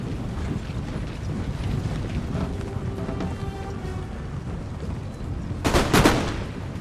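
Distant cannon and musket fire in a naval battle from the strategy game Empire: Total War, a steady rumbling barrage with wind-like noise, then a louder cluster of sharp blasts near the end.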